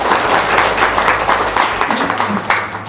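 A gathering's audience claps in response to a speaker, loud and close, with pulsing bursts of hand claps and some low background hum throughout.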